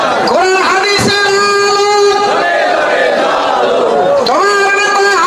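A large crowd at a Bangla Islamic sermon gathering chants the takbir in unison, loud, sustained voices repeating in waves with a lead voice calling out between them.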